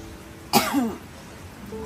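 A single short, harsh cough sounds close by, then quiet returns.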